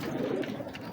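Teddy pigeons, big breeder birds in a loft, give a soft, brief coo at close range, fairly quiet, with no talking.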